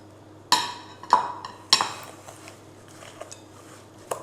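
Utensil clinks and scrapes against a mixing bowl while vanilla sugar is stirred into a dough mixture, a few sharp knocks followed by softer, irregular scraping, close and fairly quiet.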